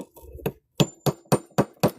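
A hammer dressing stone strikes in a steady rhythm: one softer tap, then six sharp, ringing blows at close range, each spaced about a quarter second apart.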